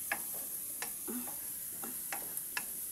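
Onion added to a pan where garlic is browning, with soft sizzling under a series of sharp clicks and scrapes from stirring, close and fairly quiet.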